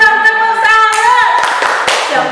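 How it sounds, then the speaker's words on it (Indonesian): A classroom audience gives a few scattered, sharp claps at a teacher-training session, heard under a sustained, ringing tonal voice that dominates the short moment. "Beri tepuk tangan dong, tepuk tangan."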